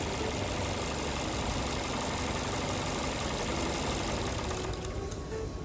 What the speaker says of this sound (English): And in this case, it shuts off the engine.